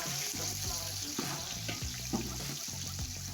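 Four or five onions frying in two to three cups of hot oil in a pot for chicken dum biryani, giving a loud, steady, dense sizzle with low bubbling rumbles underneath and no voices.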